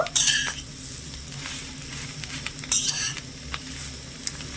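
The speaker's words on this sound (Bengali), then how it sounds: "এবারে দিয়ে দেব সেদ্ধ করে রাখা আলুটা আলুটা ভালো করে মিশিয়ে নেব" Boiled potato is stirred into a sizzling jackfruit mixture in a frying pan for vegetarian jackfruit chops. A spatula scrapes in several sharp strokes over a steady hiss of hot oil, close and fairly loud, with no voices.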